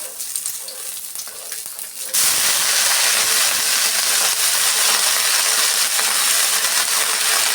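Mint leaves hit hot oil in a pan with a sudden loud hiss at about two seconds, then a steady, close, dense sizzle carries on unbroken to the end.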